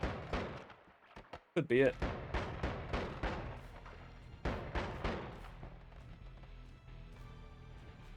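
Shotgun blasts in the game Noita fire in rapid, repeated cracking bursts, loud and close, with one heavy impact near the start and someone briefly speaking between shots.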